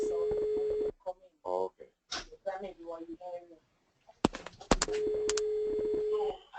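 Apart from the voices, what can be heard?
phone ringing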